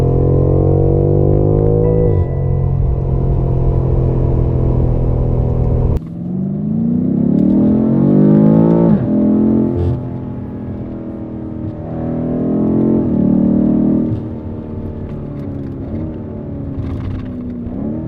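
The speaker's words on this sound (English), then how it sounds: "let you enjoy the sound of the car" BMW F90 M5 engine and exhaust revving while the car is stationary, loud close-up blips rising and falling in pitch, a held rev cut off sharply, then several more rising revs and decays, with no talking.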